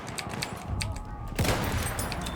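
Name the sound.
gunfire in the video game Battlefield 1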